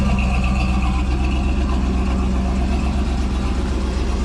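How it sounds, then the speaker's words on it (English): A 1968 Chevrolet Camaro SS engine idles with a deep, steady exhaust rumble, close and loud, running continuously without any talking. "Can you tell what motor's in it from the exhaust?"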